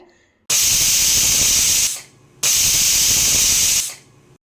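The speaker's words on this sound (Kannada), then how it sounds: "ಕುಕ್ಕರ್ ಮುಚ್ಚಳ ಮುಚ್ಚಿ ಮೀಡಿಯಮ್ ಫ್ಲೇಮ್ನಲ್ಲಿ 2 ವಿಷಲ್ ಕೂಗಿಸ್ಕೋಬೇಕು" A pressure cooker cooking tomato bath on a medium flame blows two long, loud steam whistles, each a sustained hissing blast of over a second that tails off before the next one starts.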